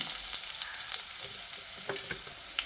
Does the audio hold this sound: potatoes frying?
yes